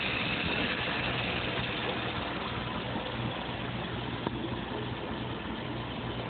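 A Mike's 636SA engine idles steadily at 600 RPM with a low, even rumble and mid-range mechanical texture, continuous and close, with no talking.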